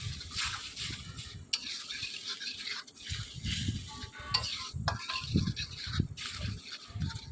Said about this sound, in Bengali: এবার আরও কয়েক মিনিট ভেজে নিচ্ছিলাম